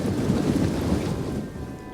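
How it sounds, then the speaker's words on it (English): Rain falls during a battle in the strategy game Rome 2, a dense, continuous hiss with a low rumbling undertone that eases slightly toward the end. "It's a very rainy day here."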